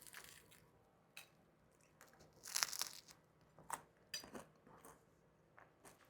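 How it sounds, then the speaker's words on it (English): Crunchy bites of a beef ravioli casserole being eaten close to the mic, a few sharp crackling bursts scattered over about six quiet seconds. "Hear the crunch."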